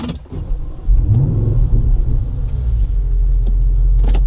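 A Bentley GT3R engine starts and settles into a deep, steady idle rumble heard close up from inside the car, with a few light clicks over the running engine.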